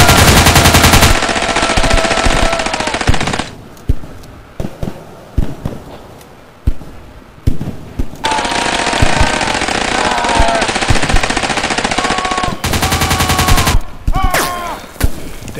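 Rapid automatic gunfire and bursts of shots from a shooter game set amid a rebel fight, loud and close, coming in long sustained volleys separated by brief gaps with scattered single shots, plus a bit of faint talk.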